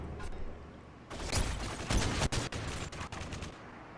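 Gunfire from an MK14 rifle in the video game Modern Warfare 3 comes in loud bursts of sharp shots with overlapping distant fire and mechanical clatter, without speech.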